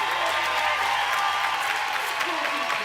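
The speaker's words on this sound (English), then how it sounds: "I'd like everybody to give a big warm round of applause to Dr. Tanya Abrahams" Steady applause from an audience at a 2013 World Environment Day launch event, dense and continuous throughout with a faint murmur of voices mixed in.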